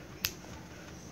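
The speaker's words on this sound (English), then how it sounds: "I'm gonna snap my fingers and the light will come back on." One crisp finger snap, close and sharp, lands near the start and is followed by quiet room tone.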